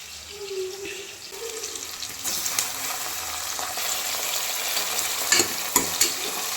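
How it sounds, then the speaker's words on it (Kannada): Chopped tomatoes hit a pan of already fried onions for an egg and spinach (palak) pulao, giving a steady sizzle with scraping stirs and a few sharper clatters of a utensil near the end; no talking. "ಇವಾಗ ಟೊಮೊಟೊ ಹಾಕ್ತಾ ಇದ್ದೀನಿ."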